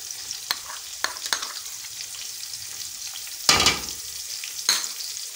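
Cumin and grated ginger sizzle softly in a pan for chana pulao, with a low frying crackle broken by a few sharp scraping stirs of a spoon, close and without talk.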